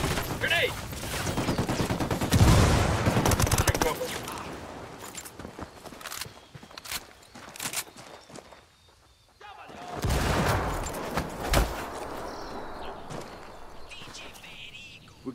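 Bursts of gunfire and scattered shots ring out in the video game Ghost Recon Wildlands, set in Bolivia, mixed with footsteps and rumbling action, as players talk over the fighting.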